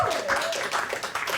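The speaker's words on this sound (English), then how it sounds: "Clap your hands if you're in a relationship tonight" A comedy club audience claps in scattered, uneven bursts at a stand-up show, quiet and somewhat distant, with a voice briefly audible over the start.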